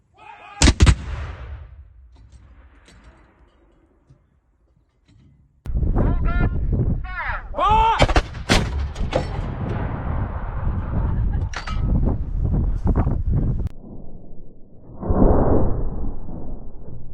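An artillery gun of the Garrison Artillery Volunteers fires once during training, a single loud, sharp blast that decays quickly into a quieter tail, followed later by a stretch of loud, broad outdoor noise.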